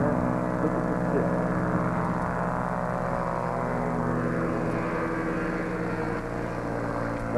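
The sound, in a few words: small propeller airplane flying low over beach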